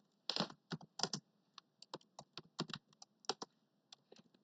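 Close, crisp keystrokes on a computer keyboard come in irregular bursts and single presses, with quiet pauses between them and no talking.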